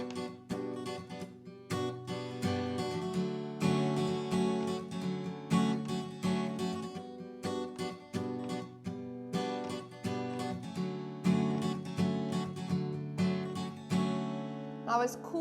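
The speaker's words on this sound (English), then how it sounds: "You might hear muted strings as well as some accented beats" Fast acoustic guitar strumming for a song, a steady driving pattern mixing percussive muted-string chops with accented beats, close and loud throughout with no talking.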